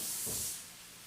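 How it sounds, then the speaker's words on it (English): A broad hiss of food sizzling in a hot pan, loudest at first and then settling to a steady, quieter crackle with no voices. "You hear that sizzle? That's what we want."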